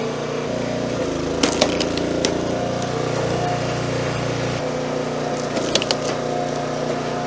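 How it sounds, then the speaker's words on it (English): A petrol-engine log splitter runs steadily at close range as a log is fed in and split, with a continuous engine drone, a shift in pitch partway through, and a few sharp wooden cracks and snaps. "we had a log that the other two splitters wouldn't fit in, so let's put it into this one"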